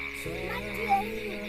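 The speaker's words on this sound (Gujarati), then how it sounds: "દેડકા બોલે છે તમને સંભળાય" Frogs croaking in a rain-flooded yard after a heavy downpour, a close, rapid, pulsing chorus with faint voices in the background.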